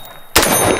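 A gun being test-fired at a shooting session gives a loud, sharp report that cuts in abruptly after a quiet lead-in, with a second blast starting right at the end.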